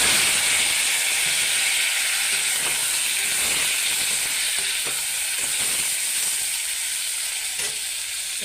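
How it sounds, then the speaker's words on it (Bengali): Chunks of taro (kochu) sizzle steadily in a hot pan for a village-style curry, a constant loud frying hiss with a few faint scrapes and clinks of stirring and no voices. "তো আমি এবার কচু এখান ভাজি গেলাম।"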